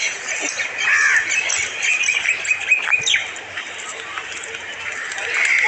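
Parakeets squawk and chirp as they fly around a cage of pigeons near Prinsep Ghat, giving loud scattered calls early on that thin out later, with people talking close by.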